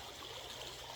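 River water flowing and trickling steadily over rocks near an outdoor lunch spot, a continuous close, even rushing babble with no voices.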